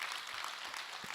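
Audience applause at a Buddhist monk's lecture hall, a steady spread of clapping held at a fairly faint, distant level with no voices over it.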